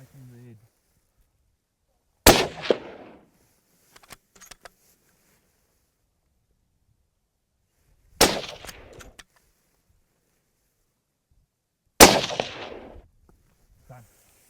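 Rifle shots on a mountain reedbuck hunt: three loud sharp cracks, each followed by a short echo, spaced several seconds apart amid quiet, with faint clicks between them.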